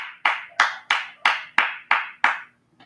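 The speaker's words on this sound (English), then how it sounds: "Let's clap." Seven sharp, evenly spaced hand claps from one person, close and fairly loud, followed by a faint tap, with no talking.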